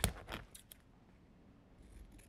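Scissors snip through a strip of duct tape up close, one sharp cut at the start followed by a few lighter clicks and rustles, then quiet, with no talking.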